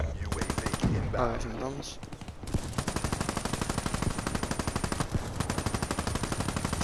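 Rapid automatic gunfire in Call of Duty: Black Ops III, long sustained bursts of close, loud shots with a brief pause between them, while someone talks briefly over the first part.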